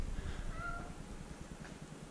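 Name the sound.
cat meowing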